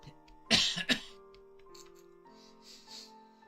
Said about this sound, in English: I have to cough first.